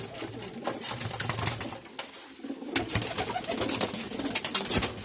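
Pigeons cooing in a bird seller's loft, soft repeated coos mixed with wing flutters and shuffling, fairly close and steady throughout with no talking.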